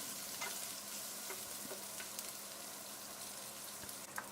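A pot of fish noodle soup holding green chilies, galangal and lemongrass is stirred, giving a soft, continuous bubbling sizzle with light intermittent clinks from the spoon, faint and close.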